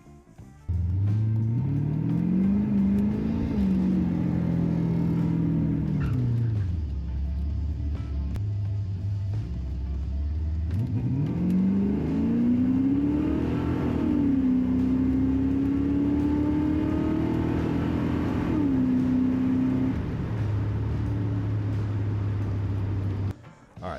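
A race car at Brainerd Motorsports Park, engine rising and falling through long revving pulls and gear changes, loud and steady from an onboard position for the whole stretch, with no voices.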